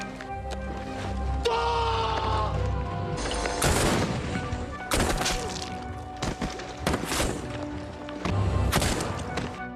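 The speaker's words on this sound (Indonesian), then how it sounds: "Orang Amerika melepaskan tembakan" Gunfire sound effects in a war scene: loud booming shots and bursts that come in clusters, with thuds and crashes between them.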